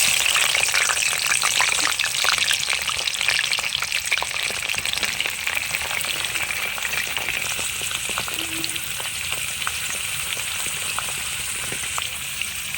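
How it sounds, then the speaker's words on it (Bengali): Eggplant pieces frying in mustard oil in a karahi crackle with a steady, dense sizzle that holds near and even throughout, with scattered pops and no talking. "প্রথমে আমি বেগুনগুলো ভেজে নিচ্ছি"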